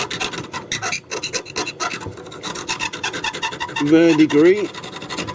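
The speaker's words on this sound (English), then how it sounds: "So what I'm going to do is I'm going to scrape that back. Let's get a knife and just scrape back any" A knife scrapes back a soldered joint on a Chapman S6BS valve tuner with rapid rasping strokes, close up; a voice speaks briefly over the scraping.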